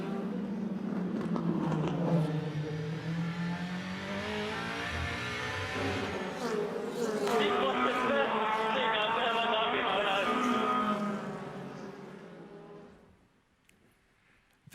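A race car from a played racing video overtakes at a track, its engine loud and continuous with rising and falling pitch, surging harder midway before fading at the end; a voice talks over it.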